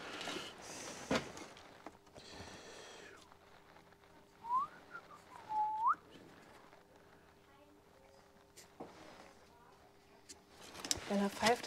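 A man whistles a few short, rising and falling notes near the middle, fairly faint within farm-yard background noise and scattered clunks, with people talking around it.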